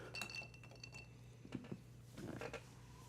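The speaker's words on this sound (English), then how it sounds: "Glass on glass. Well, not glass on glass, but glass on ice." Ice cubes clink against the inside of a drinking glass in several separate, sharp chinks spread over a few seconds, quiet and close with no talk.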